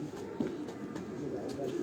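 Safedian breed pigeons coo softly at a house, a few low rolling calls repeating close by against a steady background hum.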